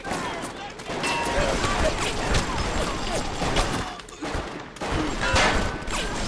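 Security turrets open fire in BioShock Remastered, sending bursts of rapid gunfire and mechanical clatter through most of the stretch, with a short lull before the shooting resumes, and a voice speaks amid the action.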